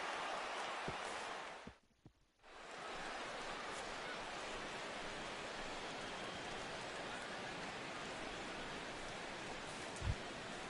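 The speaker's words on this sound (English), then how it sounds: "the rain continues to fall here" Steady rain falling on the ballpark in the baseball video game MLB 16, a soft continuous hiss throughout with one brief near-silent gap, faint and even, no voices.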